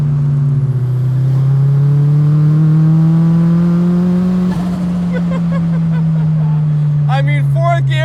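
A 470whp big-turbo Mazda Miata running E85 pulls in fourth gear at half throttle, its engine droning loud and close with a pitch that climbs slowly and then eases off, followed by a few short chirps at the end.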